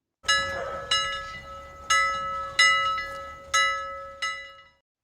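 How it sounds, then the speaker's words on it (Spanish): A small bell rung insistently, six sharp rings spaced about every second, each leaving a clear ringing tone that decays, heard alone in a quiet room. "Mientras hablaba, sonó con insistencia la campanilla"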